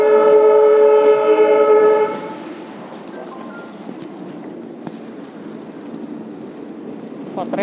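Machilipatnam Express hauled by an ALCO diesel locomotive between Pedana and Machilipatnam: a loud, sustained horn blast for about two seconds, then a steady rattling rumble of the moving train with occasional sharp clanks.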